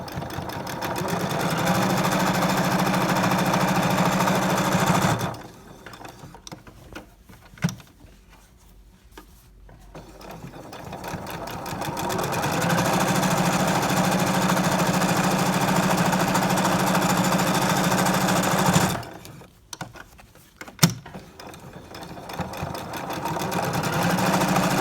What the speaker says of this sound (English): you just sew all around the perimeter of the mask